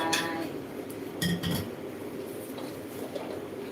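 Stir-fried pork going into a pot for a Thai curry, with a few clinks of metal and utensils against cookware and a soft clattering shuffle, near and moderately loud, no talking.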